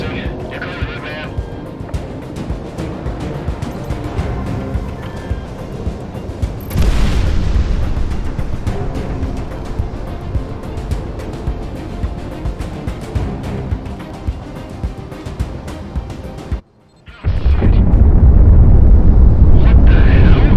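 A cargo ship exploding in the video game Project Wingman, a loud sustained roar of engines and blasts that swells into a heavier boom, then a brief drop and a final loud rumble.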